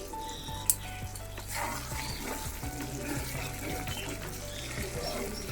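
Butter chicken with potatoes sizzling in a pan, a faint bubbling simmer with soft crackle and a brief clink near the start as the lid comes off.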